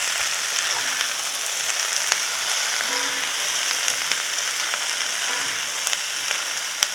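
Green papaya stir fry sizzles in olive oil in a pan, a dense, steady, close frying hiss with a few faint stirring taps.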